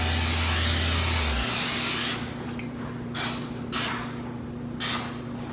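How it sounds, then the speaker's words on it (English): Cooking spray misted onto cinnamon roll baking pans: after a long hiss, several short sharp bursts of spray follow, close and distinct. "So let's go ahead and spray these pans."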